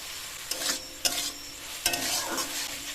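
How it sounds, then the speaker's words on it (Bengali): Boneless chicken pieces with salt, turmeric, coriander and cumin powder sizzle in a pan while a spoon stirs them, three or four scraping strokes over a steady close frying hiss. "চিকেনটা এবার সেদ্ধ হওয়া পর্যন্ত কষিয়ে নেব।"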